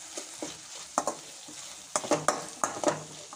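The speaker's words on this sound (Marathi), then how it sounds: "आता आपण यामध्ये टाकायचं आहे गाजर, मिक्स करून घेऊया।" Carrots stirred into cooking peas in a pan: a series of short scraping, clattering strokes of a utensil against the pan, close and fairly soft, with no talking.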